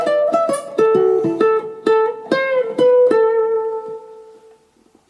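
Ukulele solo from a song, played alone: a run of bright plucked notes and short slides, close and clear, with the last notes ringing out and fading into near silence.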